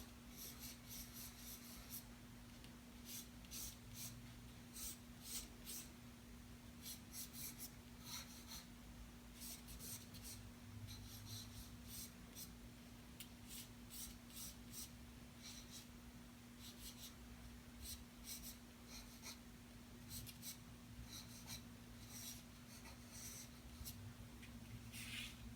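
A pencil sketches on paper during an art-class drawing demonstration, the lead firmer than ideal: continuous, close, scratchy strokes come in quick bursts and pauses over a steady low hum, with no talking.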